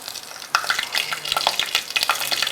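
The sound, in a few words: whole spices (cinnamon, cloves) sizzling in hot oil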